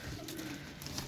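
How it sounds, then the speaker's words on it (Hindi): Pigeons coo softly in a low, steady murmur at close range, with a faint ongoing background hum and no talk. "कबूतर मंगाए"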